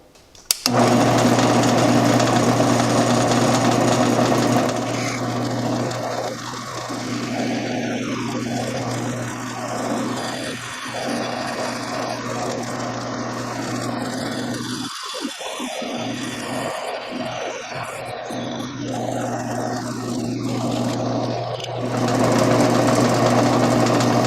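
Drill bit boring a hole through steel lubricated with cutting oil for a reverse-twist keychain, a steady continuous mechanical whine and grinding that runs loudly throughout with slight variations in load.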